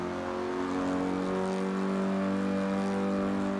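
A steady, droning engine of an Alfa Romeo Giulietta Spider in the Assetto Corsa racing game at Donington Park, a constant tonal hum with little change in pitch.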